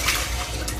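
Running water splashing over a plate being rinsed, a short close burst of steady pouring and trickling.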